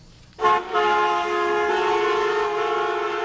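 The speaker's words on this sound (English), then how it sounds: "In Washington, Chinese students and Chinese Americans asked motorists to honk for a free China" Car horns honk steadily in a Washington street protest for a free China, one sharp toot followed by a sustained multi-horn blare that holds for about three seconds.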